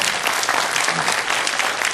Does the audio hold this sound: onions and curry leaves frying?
no